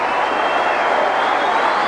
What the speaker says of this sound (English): Kevin Ward comes off to tumultuous applause